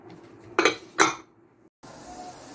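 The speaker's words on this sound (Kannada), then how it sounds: "ಇನ್ನು ಮುಚ್ಚಳ ಮುಚ್ಚಿ ವಿಸಿಲ್ ಇಟ್ಟು ನಾವು ಬೇಯಿಸ್ಕೊಳ್ಳೋದು" Two sharp metallic clanks as a pressure cooker lid is closed and the whistle is fitted on, close and distinct, then a brief gap and a low kitchen hum.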